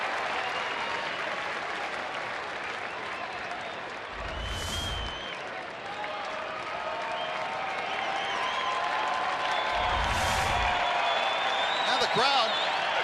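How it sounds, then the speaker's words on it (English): Baseball crowd at Globe Life Park during a Tigers at Rangers game, a broad steady roar and scattered clapping from a large stadium audience, with two low thumps along the way and a commentator talking over it. "Now the crowd at Globe Life Park starting to get into it a little bit as we get into the middle innings"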